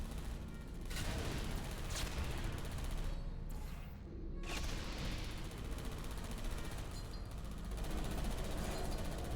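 Automated turrets firing in Portal 2, bursts of rapid gunfire sounding in dense repeated volleys over a steady game soundscape, with a brief lull midway before the shooting resumes.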